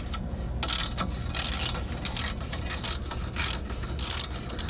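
Hand ratcheting on a sway bar link nut of a 2004–2010 Toyota Sienna, rapid mechanical clicking and grinding close by in irregular bursts over a steady low rumble.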